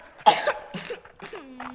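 A child coughs a few times in quick, close bursts, with some throat clearing in between, in a quiet indoor space.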